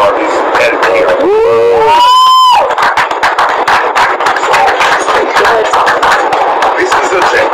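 Audience at a live event clapping and cheering loudly and continuously through the whole stretch, with a brief siren-like whistle or horn sweep near the start cutting across the dense crowd roar.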